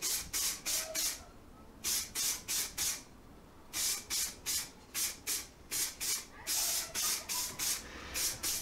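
Primer paint sprays onto a motorcycle part in short repeated bursts of hiss, grouped in quick clusters with brief pauses between, close and fairly soft.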